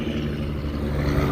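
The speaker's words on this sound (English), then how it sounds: "we're literally right off the highway" Steady roar of highway traffic beside an abandoned Chevron station in Gordon, Texas, a continuous broadband rumble of passing vehicles with no distinct breaks.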